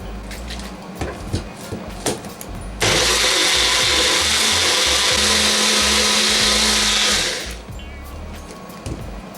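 Electric spice grinder whirring steadily for about five seconds as it grinds salt and red chili powder, a loud continuous motor roar that starts abruptly and winds down, with faint kitchen clatter before and after.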